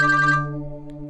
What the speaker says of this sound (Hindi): कल मोही का फोन ना हो, लगता है समर ने उठा लिया है